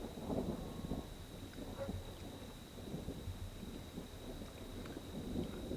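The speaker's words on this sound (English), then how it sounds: "So the rain still coming." Late-summer rain falls on a high-elevation garden with thunder rumbling low, a faint steady hiss of rain under distant rolling thunder and no talking.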